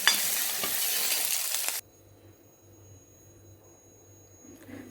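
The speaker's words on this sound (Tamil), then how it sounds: "இது நல்லா வதக்கணும்." Drumstick leaf chutney ingredients sauté in oil in a pan, a loud steady sizzle and stirring for almost two seconds that cuts off abruptly, leaving a quiet room with faint low hum.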